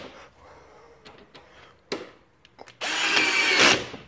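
Screws being driven back into a device with a powered driver: after quiet handling clicks and taps, the tool whirs in one loud, steady burst of about a second near the end.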